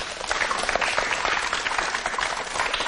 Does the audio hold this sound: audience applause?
yes